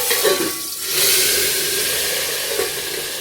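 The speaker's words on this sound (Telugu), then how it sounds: "పోపులో పప్పుచారు వేసుకునేటప్పుడు ఎందుకంటే పప్పుచారు అనేది మీదికి ఇట్లా చిల్లుతుంది" A loud, steady sizzling hiss as pigeon pea dal soup is poured into hot oil tempering with curry leaves, swelling sharply about a second in, then settling into a constant crackle.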